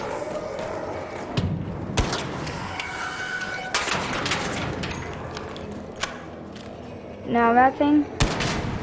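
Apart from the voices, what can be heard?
gunfire shooting at a drone's jets in ARC Raiders video game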